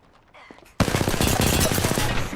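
Rapid automatic gunfire erupts in the video game Apex Legends after a quiet moment, a loud close burst of fast shots that continues without pause to the end.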